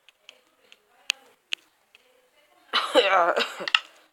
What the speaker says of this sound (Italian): mi chiederò scusa ogni volta che farò la tosse forse